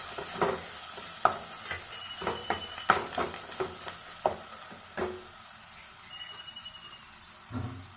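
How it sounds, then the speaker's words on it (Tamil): Tomatoes with turmeric powder sautéing in a pan for mushroom kurma, a soft sizzle under a series of sharp spoon-against-pan stirring clicks and scrapes, with quieter pauses between strokes. "மஞ்சள்தூளை சேர்த்து நல்லா வதக்கி வச்சுப்போம்."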